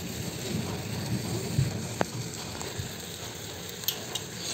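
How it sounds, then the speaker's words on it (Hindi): Water boils in an electric kettle for Maggi noodles in a hostel room, a steady close hiss and bubbling rumble with a few faint clicks and knocks over it. "थोड़ा पानी उबल गया है, अब मैं इसमें मैगी डालती हूँ"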